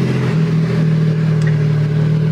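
Engine of a Porsche 911 Turbo S Cabriolet idling with a steady low hum, loud and close throughout, with a brief faint high tick partway through and no speech.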